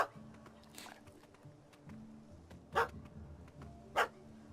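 A puppy in The Witcher 3 barks at a cat up a tree: a few sharp, separate barks spaced a second or more apart over low background ambience.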